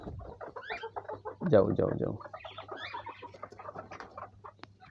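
Chickens cluck and squawk close by at a poultry house that also holds ducks, with a burst of louder fowl noise as a person speaks over them.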